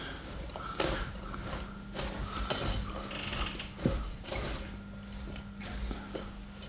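Hands mix chopped piccalilli vegetables with salt in a bowl, giving irregular close crunching, rustling and clattering sounds with a faint background hum.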